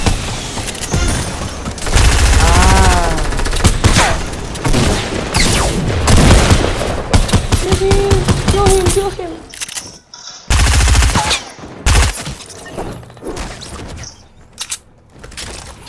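Fortnite gunfire crackles in loud automatic bursts and heavy booms, nearly continuous for most of the stretch before breaking into short separate shots with gaps of silence, with voices talking over it.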